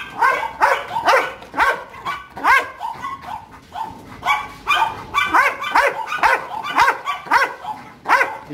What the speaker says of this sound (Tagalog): ang dami nilang aso dito.